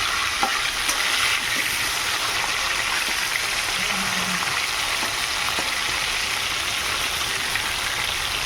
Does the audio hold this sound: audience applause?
no